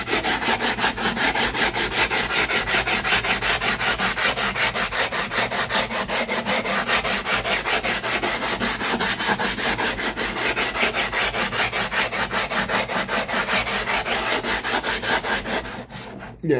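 A sharpening stone rubs up and down a blade for convexing in a fast, steady rhythm of rasping strokes, close and loud, continuing without pause until a brief clatter at the very end.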